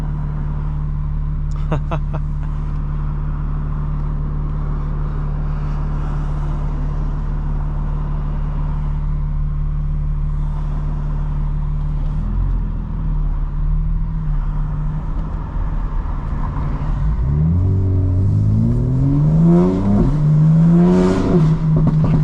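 A 900-horsepower 2025 BMW M4 Competition xDrive with new suspension drones at a steady low pitch under the cabin, then revs hard with rising gear-by-gear sweeps near the end, loud and close.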